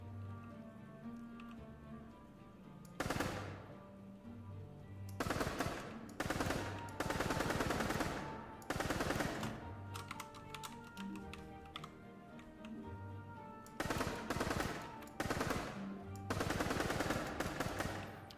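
Rapid bursts of automatic gunfire from a homemade retro online first-person shooter built in C++, loud clattering volleys separated by short pauses, with no talking.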